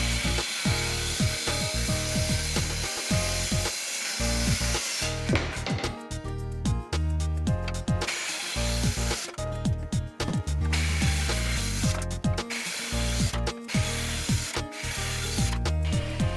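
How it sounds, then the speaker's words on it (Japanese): A circular saw cuts through wood in loud, continuous rasping passes broken by short pauses, close and with no talking. "木材は丸ノコで切ります。"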